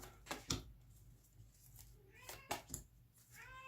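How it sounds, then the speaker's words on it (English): A cat meows several times, drawn-out rising and falling cries with short gaps between them, fairly close and clear against a quiet room. "that's just my cat crying"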